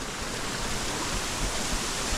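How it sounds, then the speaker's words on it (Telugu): Large waterfalls in the Nallamala forest near Srisailam give a steady, dense roar of rushing water that stays even and unbroken throughout, with no voices. "పెద్ద పెద్ద వాటర్ ఫాల్స్"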